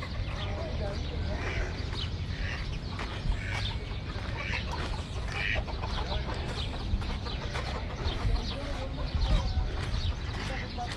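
Chickens on a farm in Kuwait cluck in scattered short bursts, moderately near, amid steady background noise and some talk.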